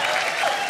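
A television studio audience on an Indian entertainment show gives steady applause, dense clapping filling the whole moment without a break.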